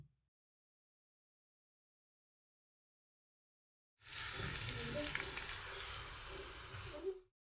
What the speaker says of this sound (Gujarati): હવે વઘારને મિશ્રણમાં ઉમેરી દઈએ.